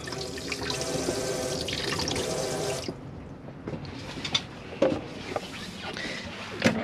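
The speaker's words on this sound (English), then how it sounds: "on the other side you do have your sink, so as long as the pump's on, you'll be able to use the hot and cold tap" A hot and cold tap runs into the sink of an Adria Twin 600SPB Supreme caravan, a steady close gush for about three seconds, then cuts off, leaving faint drips and small clicks.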